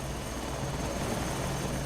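An SH-2 SeaSprite helicopter in the FSX flight simulator lifts off, its engine and rotor giving a continuous, even broadband whine and hum with no talk over it.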